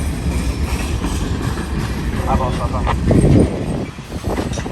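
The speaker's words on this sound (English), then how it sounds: "I hear the other train. We might get two of them passing here." A freight train with box cars, including an old New York Central car, rolls steadily past a railway crossing with rumbling wheels and clickety-clack, while people talk nearby.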